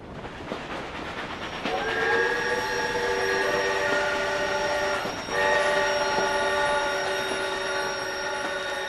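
A train runs along a railway between Skopje and Gevgelija with a steady rumble beneath, as a loud, sustained steam-style whistle sounds twice, the second blast following a brief break.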